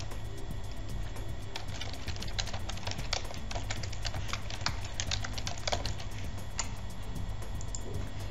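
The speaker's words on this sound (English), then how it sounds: "And you would type the question" Fingers type on a computer keyboard, a close run of quick, uneven key clicks in bursts over a low steady hum, with no talking.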